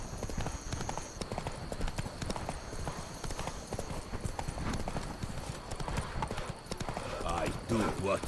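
Roach's hooves clip-clopping in The Witcher 3, a steady rhythmic trot close and prominent, with a voice speaking over the hoofbeats and a brief snort near the end.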